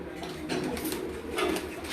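A strong-bodied racing pigeon coos in low, repeated throaty phrases, fairly close, over a steady background of soft ambient noise.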